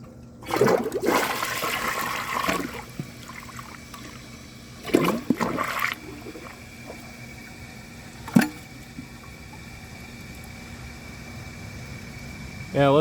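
A clogged toilet flushed repeatedly during a Vilbomex marathon flush test, with a strong rushing flush surge near the start, another around five seconds, then a brief gurgle and quiet trickling as the bowl fails to drain.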